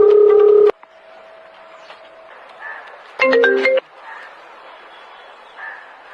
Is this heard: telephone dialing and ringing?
yes